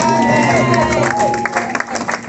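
A church congregation claps and cheers in acclamation, a loud, full burst of crowd noise with applause that swells then thins toward the end, mixed with voices.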